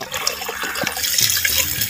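Water pours steadily into a cooking pot for fish curry in a continuous splashing stream, close by, with no voices.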